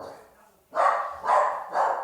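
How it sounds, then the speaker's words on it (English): Dogs bark three times in a row, each bark loud but muffled and rough, heard from somewhat further off. "They're barking their heads off."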